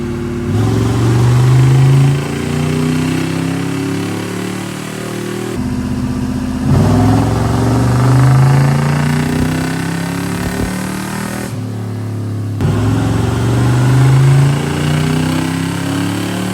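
A car engine runs during carburetor tuning, holding a steady mid-pitched idle and rising in three distinct revs that swell and settle back, loud and close with no talk.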